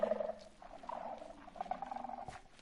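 A cat purrs in Minecraft with a low, uneven rumble that wavers throughout, close but fairly soft, mixed with faint game sounds and no talk.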